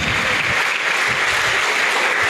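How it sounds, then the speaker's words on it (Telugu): An audience at a training event claps steadily and loudly, a dense wash of applause that fills the whole moment with no pauses. "ఒకసారి గట్టిగా చప్పట్లు కొడదాం"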